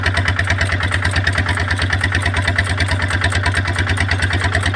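A seed-planting drill machine's engine runs steadily and loudly nearby, with a rapid, regular putter that stays continuous throughout and no speech.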